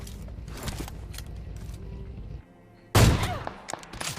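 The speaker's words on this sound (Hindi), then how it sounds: "अब यहाँ पे मैंने उसको एक शॉट मारने की ट्राई करी" Gunfire in a battle royale video game, a sharp loud burst partway through after a stretch of game ambience and engine hum, then decaying echoes.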